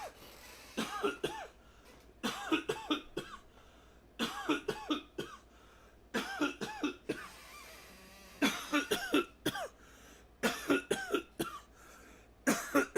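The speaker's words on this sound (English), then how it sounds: "I gotta start coughing into my left hand." Repeated bursts of hacking coughs in quick clusters, fairly close and moderately loud, continuing with short gaps throughout.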